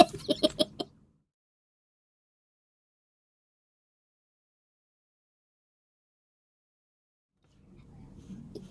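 A voice imitating a chicken, giving a quick burst of about five clucks alone at the start, followed by long silence and faint murmuring at the end.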